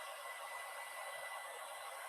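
A blow dryer heats the air inside a balloon, blowing with a steady loud, even whoosh throughout and no talking.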